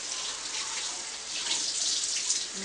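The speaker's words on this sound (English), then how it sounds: "Cold water. Have my paper, and I'm just going to rock it back and forth. Get it nice and wet on one side." Cold tap water runs steadily over a sheet of watercolor paper being rocked back and forth under it. The hiss and splash are continuous and close, with no voices.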